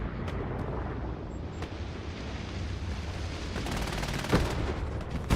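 Gammon bombs going off during a competitive Hell Let Loose match, a steady rumble of distant blasts and scattered sharp cracks, with a louder burst near the end.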